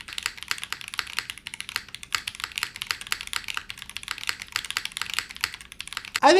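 Someone types on a TB8 TKL keyboard with an aluminum top mount and Moon switches. Keystrokes come in a steady, rapid stream of close clacks with a slight metallic ring, and a louder burst of sound enters at the very end.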